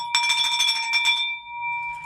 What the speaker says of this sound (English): Let's just ring the hell out of this bell today.